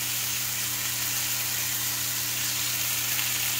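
Morel and mica cap mushrooms stir-fry in a pan with a constant close hiss and sizzle over a steady low electrical hum.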